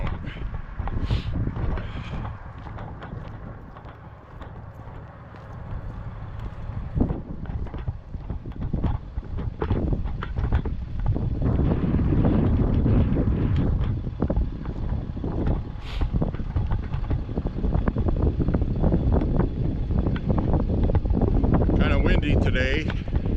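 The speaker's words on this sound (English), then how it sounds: "Didn't expect it to be this windy, but it is." Strong wind gusting during an outdoor exercise walk, a rough continuous rumble buffeting the microphone throughout, with footsteps and occasional movement underneath.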